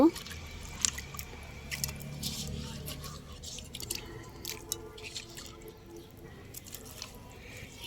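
Fish is added to a marinade and mixed by hand in a rural kitchen, with soft wet squishing and dripping sounds close by, while a person talks over it.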